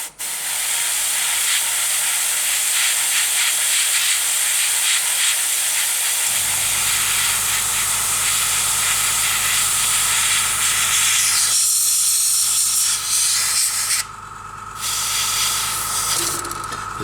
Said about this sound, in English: I've loaded the gun up with a Model Air Black Grey RLM 66, and just going to spray some of the interior parts now.